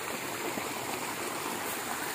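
A river flows in steady, continuous rushing water noise, close and moderately loud, heard alone with no voices, during a mountain trek on Gunung Lumut in Paser.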